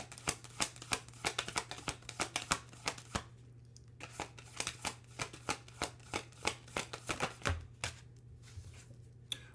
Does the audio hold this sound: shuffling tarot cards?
yes